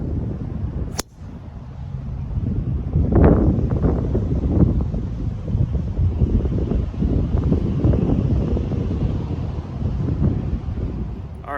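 Strong wind on a golf course buffets the microphone in a loud, continuous roar with gusty swells, a sharp knock early on, and a voice speaking over it.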